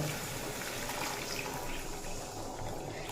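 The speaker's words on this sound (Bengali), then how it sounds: "গরম জল" Hot water pours into a simmering egg and bottle gourd curry to make the gravy, a steady soft gushing stream, fairly quiet and continuous throughout.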